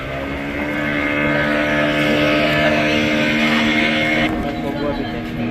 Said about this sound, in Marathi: आमच्यासाठी बघूया कुठली बोट येते ती